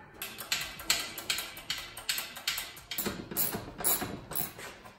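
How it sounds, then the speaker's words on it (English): A transmission jack under a wrecked Honda S2000 is pumped up during a clutch install, giving a steady series of close metallic clicks and ratcheting clunks at an even rhythm. "We'll pump up this transmission jack and fire in these bolts"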